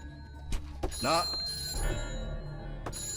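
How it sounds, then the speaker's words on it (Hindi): An unanswered telephone bell rings in short bursts while voices talk nearby, in a Hindi film scene. "सर, घंटी बज रही है, कोई फोन नहीं उठा रहा है।"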